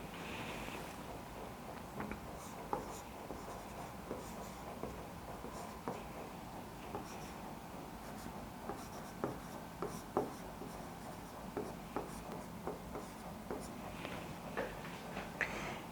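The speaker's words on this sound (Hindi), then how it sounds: "तो मैं लिख सकता हूँ यहाँ पर प्रॉफिट के लिए" A teacher writes on a board during a profit and loss maths lesson, making faint, scratchy strokes and taps spread over a steady background hiss.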